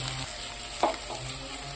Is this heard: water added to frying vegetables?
yes